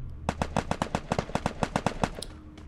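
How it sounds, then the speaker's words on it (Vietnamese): Rapid automatic gunfire from the Free Fire video game: a run of about fifteen sharp, evenly spaced shots, loud and close, then a brief pause and a faint final shot, with no voices. "bọn này bắn súng ghê nhỉ anh em."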